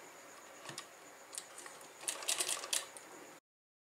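A sewing machine stitches kurti fabric in short, close mechanical rattling runs separated by brief pauses, growing louder and denser toward the end before cutting off, with no talk.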